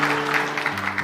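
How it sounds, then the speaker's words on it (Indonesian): A church congregation applauds during a service, a brief burst of clapping in uneven pulses over sustained keyboard chords, with no voices on top. "berikan tepuk tangan bagi Tuhan Yesus"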